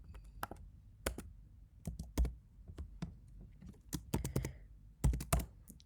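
Python code being typed on a computer keyboard, with irregular bursts of crisp, close key clicks and some heavier thunks in quick clusters and separated by short pauses, no speech.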